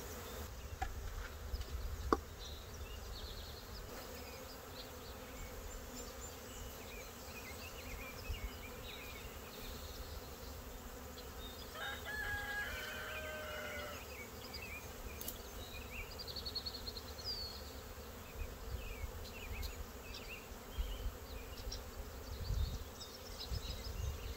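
A honeybee swarm hums as a dense, continuous buzz around a tree, with individual bees zipping past now and then, fairly faint and with no voices.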